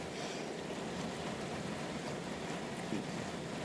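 Steady rain falls outdoors near a beach in nasty weather with tornado warnings, a dense continuous hiss with no voices.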